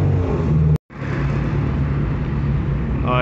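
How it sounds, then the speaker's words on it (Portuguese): A poorly tuned car engine revs steadily and loudly on a city street in Manaus, a rough sustained drone with a brief cut in the sound, no talking. "Dá pra ver que o motor deles não tá bem regulado não, viu?"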